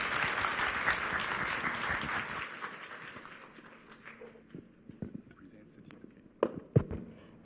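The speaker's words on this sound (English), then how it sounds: "So let's give President Lee a very round applause." Applause from an annual-meeting audience for President Lee after a keynote speech, a dense ovation that thins into scattered claps and a few loud sharp pops near the end.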